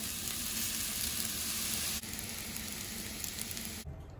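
Egg fried rice with soy sauce and sesame oil crackles on a Blackstone griddle in a loud, dense, continuous sizzle that dips briefly midway and then cuts off abruptly near the end.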